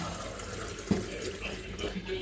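Tap water runs steadily into a container to be heated for coffee, a quiet, continuous trickle at close range with one brief clunk partway through.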